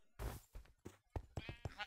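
Sheep bleating in the Minecraft video game, a few short close bleats in quick succession with no talk over them.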